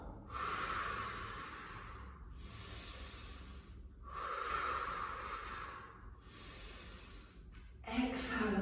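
Breathy exhales during a Pilates spine twist: long, loud hissing breaths, close to the microphone, repeating in a steady rhythm about every two seconds, with a sharper breath at the end.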